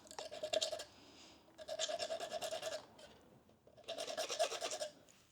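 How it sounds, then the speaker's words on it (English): A nail file rasps a barb off a tapestry needle in three close, even bursts of quick back-and-forth strokes, each lasting about a second with short quiet pauses between. "I think I can fix this barb problem with a nail file."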